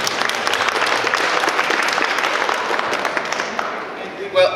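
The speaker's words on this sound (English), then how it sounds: "Let's give them a round of applause." An audience at a candidate night event gives sustained, loud applause for candidates, with a brief voice rising near the end.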